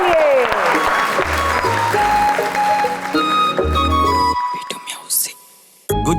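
Applause for a singer rises under the opening of a Punjabi pop track at a stage show, a crowd clapping mixed beneath loud music with heavy bass notes before the sound drops away near the end.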